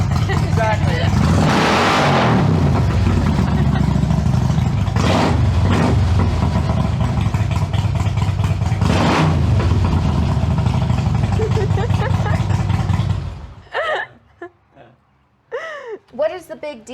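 A loud car engine fitted with a racing cam roars and revs continuously for about thirteen seconds, with swelling surges, then cuts off abruptly, leaving brief bird-like chirps in a quiet pause.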